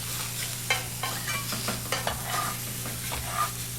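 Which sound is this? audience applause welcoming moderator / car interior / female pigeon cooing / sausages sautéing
sausages sautéing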